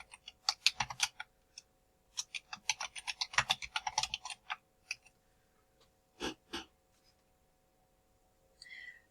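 Quiet, close clicking of keys on a computer keyboard in irregular bursts of typing with short pauses and a few heavier keystrokes.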